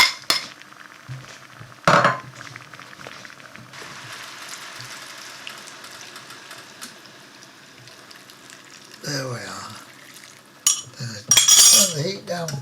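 Mushrooms go into a pot of pork stew with clinks and clatters of utensils against the pot. Sharp metallic knocks come in short bursts around quieter stretches, with a louder jumble of clanks toward the end.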